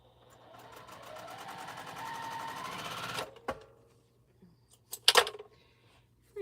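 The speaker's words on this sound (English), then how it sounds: "I do like sewing on this Juki" A Juki sewing machine stitches quilt pieces in a steady continuous run for about three seconds, then stops; a few faint clicks and a short sharp rattle follow near the end.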